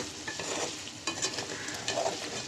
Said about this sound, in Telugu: ఒకసారి కలుపుకోవాలి. అవే మగ్గుతాయి.